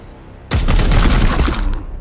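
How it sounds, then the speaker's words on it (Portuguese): Burst of gunfire from Warhammer 40k: Chaos Gate - Daemonhunters, a loud sudden volley of rapid overlapping shots that starts abruptly and rumbles on with crackling reports for over a second. "vamos dar um tiro no cara aqui"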